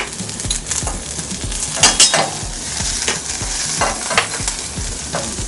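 Onion, garlic and lemongrass fry with mustard seed in a hot pan, a close, busy sizzle with rhythmic spoon scrapes and occasional metal clinks throughout.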